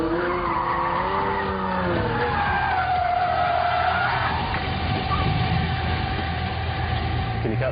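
A Pagani Zonda supercar skids round a corner, tires squealing in long wavering tones over a continuous engine roar, loud and close.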